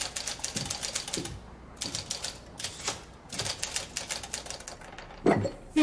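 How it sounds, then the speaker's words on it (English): A typewriter heard through a thin fancy-hotel wall taps in quick muffled bursts, pausing briefly between runs of keystrokes, with a couple of louder thumps near the end. "Yes, Mr. Randall's typewriter, no doubt"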